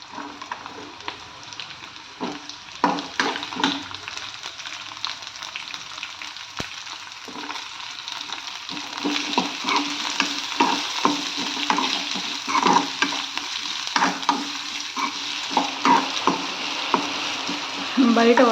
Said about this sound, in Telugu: ఇదే పోపు అన్నం కూడా వేసేస్తాను కొంచెం నేను దీంట్లో